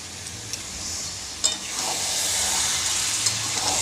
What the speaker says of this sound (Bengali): এবার একটুখানি নাড়াচাড়া করে নামিয়ে দেবো।